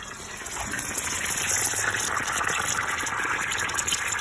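A steady gush of water pours continuously onto a leaking gas line, close and fairly loud, with a faint high whine running underneath.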